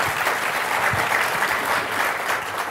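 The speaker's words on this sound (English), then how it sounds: "Applause." Steady, loud applause from a conference audience welcoming a guest to an opening keynote fireside chat, an even wash of many hands clapping with no voices on top.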